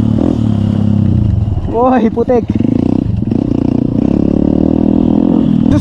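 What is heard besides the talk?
Honda CR-150L motorcycle engine and muffler on a trail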